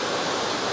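Heavy rain pours down in a steady, dense hiss that fills the whole short moment without a break.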